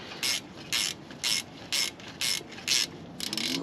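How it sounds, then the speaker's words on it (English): A small speed wrench spins a front brake caliper bolt on a 2014 Toyota Camry, giving six evenly spaced bursts of close, crisp ratcheting clicks with short pauses between them. "Let me take your little speed wrench."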